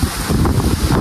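Strong wind blowing in a village, gusty buffeting roar with low rumbling pulses against the microphone, loud and close.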